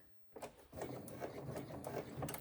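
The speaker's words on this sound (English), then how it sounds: "Often when I'm sewing curves, I just do 2 stitches at a time" A sewing machine stitches a curve on a crossbody bag front in short bursts of a couple of stitches at a time, quick close clattering pulses with brief pauses between.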